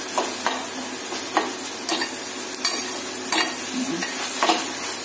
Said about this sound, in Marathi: थोडं भाजून घेऊ आपण आता